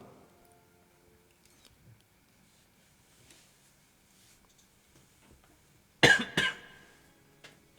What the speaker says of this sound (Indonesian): Makin banyak ngomong, makin batuk,